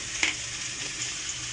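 Puti fish fry in a pan in a home kitchen, giving a steady soft sizzle with a brief sharper crackle near the start, close and alone without talk.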